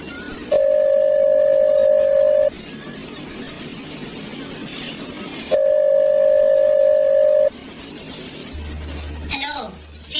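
Steady payphone dial tone sounding twice in long even stretches, loud and close, with a faint handset clatter near the end; no talking over it.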